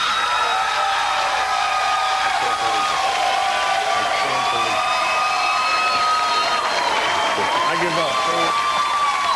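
A television studio audience breaks into dense applause mixed with cheers and whoops, a crowd roar that carries on steadily with voices talking over it.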